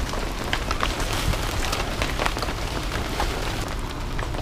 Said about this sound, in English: Apparently raining.